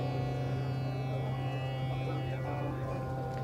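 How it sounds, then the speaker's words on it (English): A Bastl Eurorack wave shaper module with feedback drones a steady, buzzy tone rich in harmonics, holding constant and loud throughout with a slight shift in its upper overtones near the end. "that was the timbre. It's a wave shaper."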